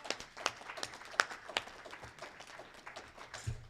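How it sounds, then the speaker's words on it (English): A small audience at a legislative seminar claps in a brief, scattered round of applause, moderately quiet and fading out after a few seconds. "can we give a huge round of applause for all the people who came and addressed us today?"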